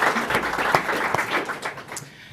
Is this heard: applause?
yes